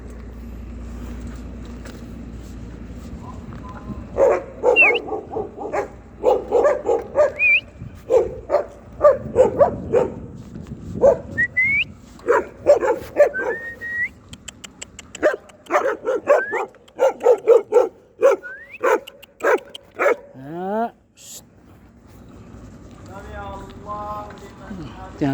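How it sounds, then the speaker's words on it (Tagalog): A male dog barks repeatedly at passing cyclists, sharp barks and yips in irregular bursts, moderately close over low road and bicycle noise, with people talking at the end. "Tinatahol tayo, lalaki pa naman ang aso pero hindi naman nangangagat."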